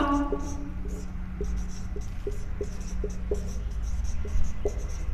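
Chalk or marker strokes on a classroom board during a Sanskrit grammar lesson, a run of short scratchy taps and squeaks repeating steadily against a low background hum.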